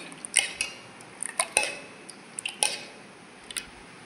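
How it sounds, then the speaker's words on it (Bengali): Sour curd being whisked in a bowl to a froth, giving light clinks and taps of a utensil against the bowl in an irregular, fairly quiet series. "টক দই দিয়ে আমি ভালো করে মিশিয়ে নিচ্ছি"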